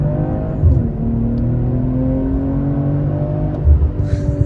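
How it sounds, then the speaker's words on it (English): BMW M340i xDrive launching hard from a standstill, its engine note climbing steadily and loudly through the revs in one long sustained pull, close and clear with no talk. "maybe we can do another little takeoff for the car"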